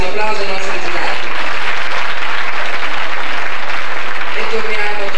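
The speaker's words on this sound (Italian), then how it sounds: "un applauso ai nostri giurati" Steady applause from a crowd for a jury at the 1991 Piccolo Poeta poetry show at the Atlantide in San Benedetto del Tronto fills the whole stretch, loud and continuous without pause.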